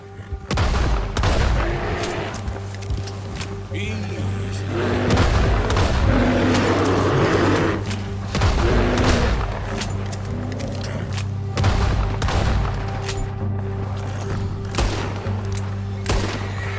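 Gunfire in Red Dead Redemption 2, with repeated loud shots and booms going off in bursts and volleys, some close and sharp, over a rumbling background and occasional shouting.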